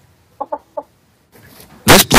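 A Delaware blue hen chicken gives three quick soft clucks, close and clear in quiet surroundings, followed by a louder rustling burst.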